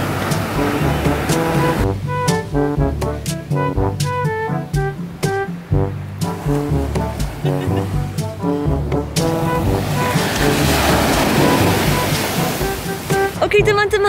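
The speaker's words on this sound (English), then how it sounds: "But waves are so strong now." Strong ocean waves surging at Dreamland beach in Bali, a loud, steady roar of surf throughout with rhythmic pulses over it and a voice speaking at times.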